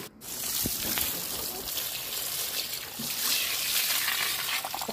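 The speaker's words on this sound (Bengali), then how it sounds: "আজকে স্নান করানো হচ্ছে" Water splashes and trickles steadily while a dog is bathed at home, a continuous close wet sloshing that fills the whole stretch with brief bursts, and a voice speaks over it.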